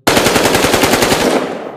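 A 5.56 caliber rifle in Battlefield Hardline fires a loud, close, rapid burst of about a dozen evenly spaced shots that cut off and leave a short ringing tail.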